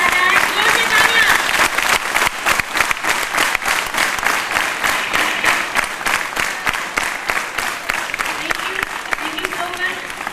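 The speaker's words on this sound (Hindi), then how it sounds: "जोर से तालियां।" Loud, sustained applause from a school camp audience at a championship banner presentation, with dense claps and a few sharper individual hits throughout, steady and close.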